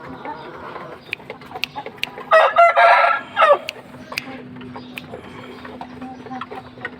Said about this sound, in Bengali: তুই মোরগ বেটা, তুই মুরগি না।